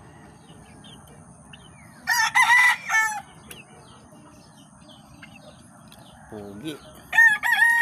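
Rooster crowing in bursts, one young cockerel among backyard pet chickens about three months old, loud harmonic crows around two to three seconds in and again at the end, with a brief spoken word between.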